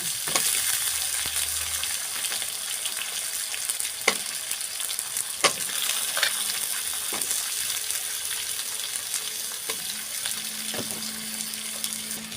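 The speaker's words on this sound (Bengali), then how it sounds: "সুন্দর করে কলা আলুটা পেঁয়াজের সাথে ভেজে নেব" Green plantain pieces fry with onion in a pan, giving a continuous sizzling hiss broken by occasional sharp clinks of a spatula stirring, with a faint watery trickle near the end.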